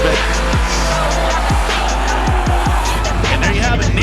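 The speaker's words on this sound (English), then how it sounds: "the Klutch Kickers Chevy Corvette being chased by Christian Catrone in the BMR Chevy Corvette" Chevy Corvette drift cars at a drift series competition, with loud engine roar and repeated sharp tire squeals and chirps during the chase. A commentator talks over the sound.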